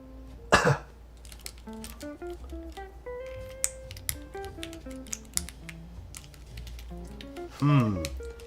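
A single sharp cough near the start and a louder throaty cough near the end, over faint background music.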